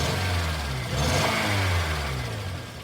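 Car engine snapped open at the throttle during an in-cylinder pressure test: a close, loud rising rev that surges and falls back, with a rough mechanical roar throughout and no talk.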